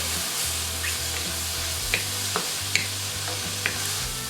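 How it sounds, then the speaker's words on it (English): Balsamic vinegar goes into a hot pan of browned burger fillings and sizzles steadily while a utensil stirs, with a few sharp scraping clicks against the pan. "we're going to add balsamic vinaigrette, balsamic vinegar"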